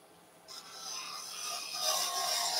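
A woodturning gouge shaves wood on a lathe while an owl figure is being turned, a steady scraping rasp that starts softly, jumps up after half a second and grows louder and brighter toward the end, with no voices.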